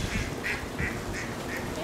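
Several short quacks from ducks repeat at a steady pace over a low, rumbling background, loud and fairly close.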